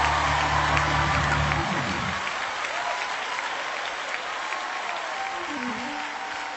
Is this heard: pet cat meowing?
no